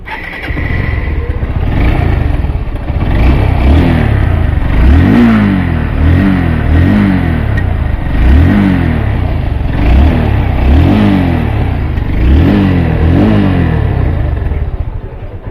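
A Honda CB Hornet 160R motorcycle engine is revved repeatedly, up close and loud, each throttle blip rising and falling in a regular series of about a dozen surges over a steady idle.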